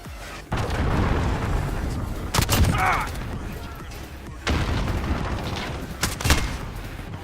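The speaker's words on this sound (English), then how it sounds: "Allied cruise missile launched" In the tank video game Oden, an allied cruise missile strike lands as a series of loud, close booms and rumbling explosions, with heavy blasts near the start and again later, over continuous battle noise.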